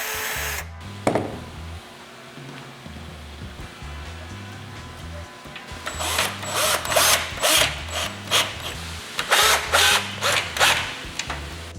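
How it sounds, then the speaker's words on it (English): A power drill whirs in short, repeated bursts, some sharper and more grinding, drilling holes to mount a T-Rex X-Metal vehicle grille, after a quieter stretch with a few clunks at the start. "I'm going to go ahead and drill those out now"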